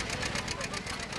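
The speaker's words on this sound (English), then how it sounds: "That's a great pulling tractor." An antique John Deere 720 tractor engine labors loudly at a tractor pull, a dense continuous roar with a rapid pulsing beat that fills the whole clip, with talk likely buried beneath.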